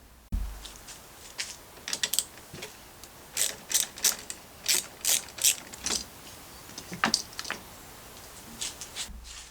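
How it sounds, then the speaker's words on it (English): A 10mm ratcheting wrench clicks in quick bursts of ratchet-pawl ticks while loosening the battery terminal under the open hood of a 2024-2025 Subaru Crosstrek, close and fairly loud with short pauses between strokes. "It's time to disconnect the battery terminal with a 10mm ratcheting wrench."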